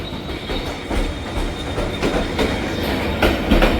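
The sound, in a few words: train passing through a station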